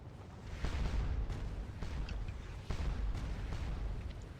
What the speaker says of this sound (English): that's just a lot of guns pounding on you